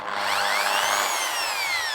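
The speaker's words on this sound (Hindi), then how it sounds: "तो ये एंटी क्लॉकवाइज घूम रही है। तो drill machine reverse and forward दोनों तरीके से चलती हैं।" A Hyundai electric drill spins in reverse, a close, steady high-pitched motor whine with a gently shifting pitch, running alone without voices for about two seconds.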